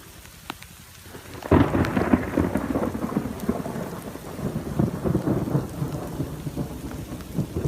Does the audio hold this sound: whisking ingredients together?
no